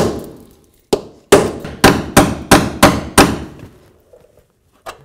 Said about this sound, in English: just take a chisel. Just try to go in between the two pieces of metal.